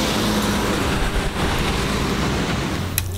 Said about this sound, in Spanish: Autos, colectivo, mucho ruido.